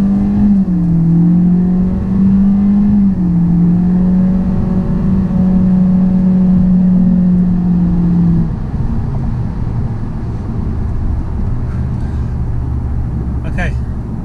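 A 2019 Honda Accord Sport with the 1.5L turbo engine accelerates at full throttle, giving a steady droning engine hum that rises then eases off near the end, under someone talking inside the cabin.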